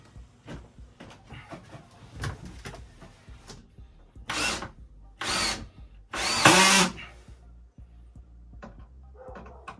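A power drill drives screws into plywood during a small workshop remodel, with three clear whirring bursts of rising length close by, surrounded by quieter clicks, knocks and handling noises.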